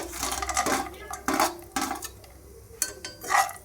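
Cashews tossed into hot ghee in a pan, with a metal spoon clinking and scraping against the pan in irregular bursts and a soft sizzle beneath, close and fairly loud.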